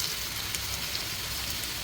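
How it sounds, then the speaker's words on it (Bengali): French fries being double fried in hot oil, a soft, continuous sizzle and crackle at low, steady volume with faint scattered pops and no voices. "মানে ডাবল ফ্রাই করব।"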